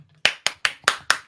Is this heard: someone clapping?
yes